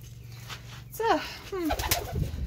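A pet pigeon in a loft gives two short rising coos close by, soft but distinct, while a person talks quietly nearby.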